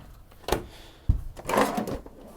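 Kitchen drawers in a 2025 Desert Fox 27FS toy hauler slide on roller bearing glides, with a couple of close thumps and a brief sliding rattle as they open and shut.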